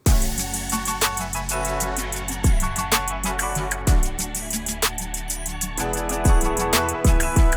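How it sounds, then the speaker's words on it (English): A produced beat with punchy kicks, crisp steady hi-hats and a sustained synth chord, looping in a tight, even rhythm at full volume. "Here I have a beat that I've been working on"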